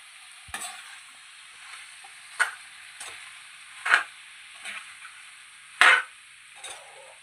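Pasta frying in a pan with chilli powder and garam masala, a soft steady sizzle broken by about six distinct scrapes and knocks of a spoon stirring it, close and without speech.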